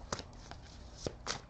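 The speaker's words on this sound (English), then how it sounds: "let me shuffle this deck" A tarot card deck is shuffled in a few soft, brief riffling bursts, close but quiet, with small pauses between them.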